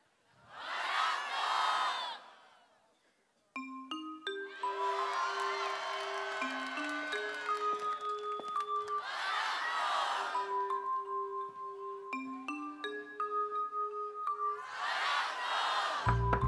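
An outdoor concert crowd at an open-air rock theatre shouts and cheers in unison in three loud bursts, with sustained keyboard or synth notes playing between the bursts.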